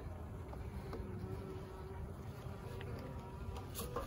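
A dense, low buzzing hum of many honey bees on hive frames during a winter hive inspection fills the air continuously, steady and close, with light rustling on top.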